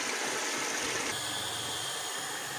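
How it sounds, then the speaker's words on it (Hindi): Water in a cooking pot nearing the boil for biryani, a steady faint hiss and gentle bubbling wash that continues evenly with no talk. "ये देखिए पानी तकरीबन उबलने लगा है"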